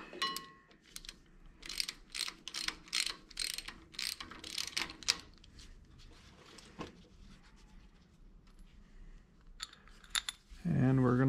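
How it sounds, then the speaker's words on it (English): A half-inch socket ratchet backs a small bolt out of an FMTV truck brake, giving bursts of quick clicking ratchet strokes with metallic clinks, close up, fading to quieter handling and ending with a voice. "we're just gonna take this little bolt out"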